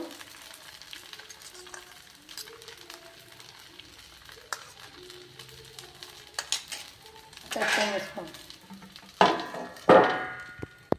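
Vegetable dosa cooking in a spoonful of oil on a pan, soft intermittent sizzling with clinks and scrapes of a spatula, louder bursts of frying toward the end.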